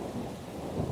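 Rain and thunder outside, a brief, low, steady rumbling wash of thunder over rainfall, moderately faint and without talk.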